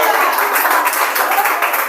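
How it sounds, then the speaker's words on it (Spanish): A church congregation claps loudly during a Spanish-language sermon, dense continuous applause filling the room for two seconds. "le dé un aplauso de gloria al Rey de la Gloria en esta mañana"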